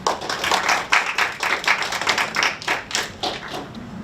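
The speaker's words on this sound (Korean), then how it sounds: "박수로 환영 부탁드립니다." An audience at a KAIST startup tech event claps to welcome a mechanical engineering professor, a close, uneven patter of distinct hand claps that swells and fades in bursts before thinning out, with no speech.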